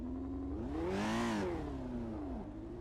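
The Lotus 49 engine in the racing game Project Cars revs up and back down in one rising and falling sweep, a loud raspy drone that briefly dips, no speech.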